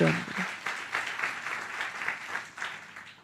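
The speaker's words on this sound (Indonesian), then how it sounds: "kalau mau tepuk tangannya yang paling meriah buat Yesus." A church audience claps for Jesus during a sermon, with a sustained round of applause in clustered bursts and a brief voice heard at the start.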